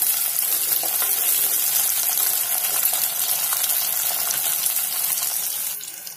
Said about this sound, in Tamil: சின்ன வெங்காயம் போட்டு நல்லா ஃப்ரை ஆகணும் வெங்காயம் நல்லா ரெட்டாக ஃப்ரை ஆகும்